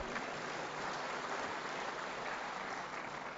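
Sustained audience applause at a political party convention in a hall, dense steady clapping throughout with no pauses, fairly loud and even.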